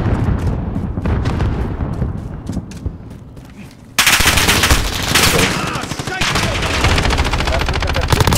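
Rapid automatic gunfire from the Call of Duty Modern Warfare video game rattles in dense, loud bursts throughout, growing heavier midway, with a player talking over the shooting.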